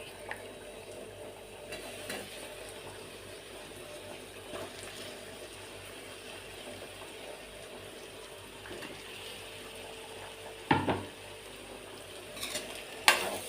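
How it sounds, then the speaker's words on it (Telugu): Eggplant pieces fry with green chili paste in a pan for a tomato brinjal curry, a quiet, steady sizzling hiss with a few soft stirring knocks and clinks near the end. "ఇప్పుడు మనం దీంట్లో వంకాయలు వేసుకోవాలి."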